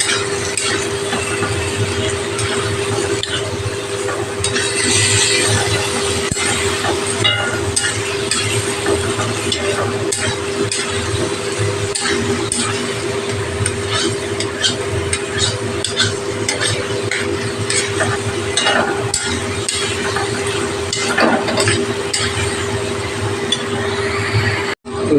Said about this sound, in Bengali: এঁচোড়ের কষানো চলছে।